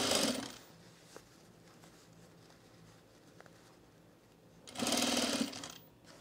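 A sewing machine stitches a pleat on a men's utility jacket in two loud bursts of rapid mechanical whirring, one at the start and one near the end, with quiet handling sounds between.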